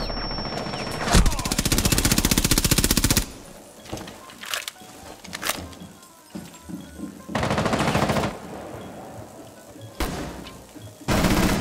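Heavy bursts of automatic gunfire crack in long, loud volleys in a Rainbow Six Siege team deathmatch on the Chalet map, separated by shorter thumps and scattered single shots.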